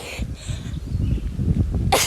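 A single sharp sneeze from allergies rings out at close range on an outdoor morning walk, preceded by breathy rustling and low background noise.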